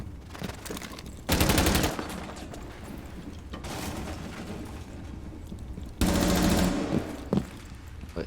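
Bursts of rapid automatic gunfire from Rainbow Six Siege, two loud volleys separated by quieter in-game ambience and a few isolated shots near the end.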